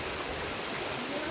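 River water flows in St. Vincent and the Grenadines near a waterfall, a dense, steady broadband rush filling the short stretch close by, with no voices.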